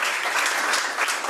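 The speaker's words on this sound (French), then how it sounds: "que je vous demande d'applaudir" Audience applause at a Rotary Club event in Martinique welcoming a guest, a brief dense patter of many hands clapping at moderate distance.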